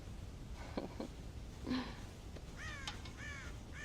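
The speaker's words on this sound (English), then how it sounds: "God damn crows!" Crows cawing around a farm silo in the Red Dead Redemption video game, several harsh caws spread across the moment over a soft steady background hiss, moderately distant and faint.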